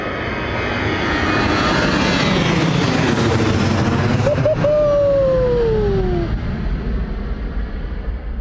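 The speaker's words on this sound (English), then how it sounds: "Low and loud from the Ryanair 737, low and loud." A Ryanair Boeing 737 departs low overhead from Bristol Airport, its jet engines building into a loud, sustained roar that peaks as it passes directly above, with a rising whine that then fades away.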